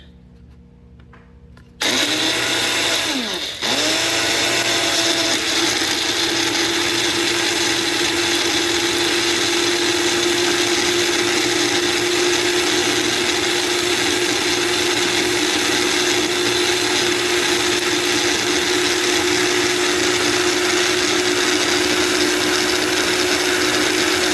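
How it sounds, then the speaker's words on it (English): After a brief start-up, a blender crushing dried red peppers roars continuously at a loud, steady whine, grinding without pause for over twenty seconds. "put it into the blender. And don't mind the noise, and we blend."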